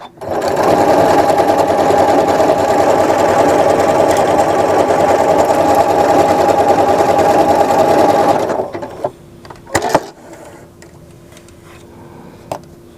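A galloon embroidery machine drives a 7511 blue embroidery needle through regular sewing thread, a loud steady whir of rapid stitching that runs unbroken for about eight seconds before stopping, followed by a few faint clicks and handling noises.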